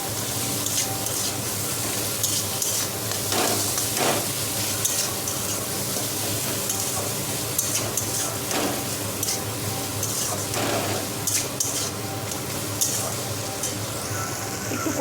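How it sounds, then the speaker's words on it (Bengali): Nuts being stirred into frying masala in a pan, a steady close sizzle with scraping strokes running throughout, joined by intermittent running water from a kitchen tap. "মশলাটার সাথে বাদামগুলো দিয়ে একটু নেড়ে নিচ্ছি।"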